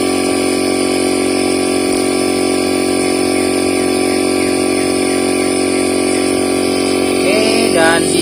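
LG inverter refrigerator compressor running steadily up close, a loud continuous mechanical hum with tonal whine and a brief higher pitched chirp near the end.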